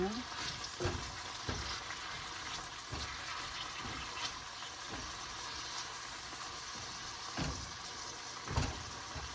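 Ingredients are sautéed in a pan ahead of pampano fish, giving a constant soft sizzle broken by periodic scraping stir strokes, fairly quiet and close.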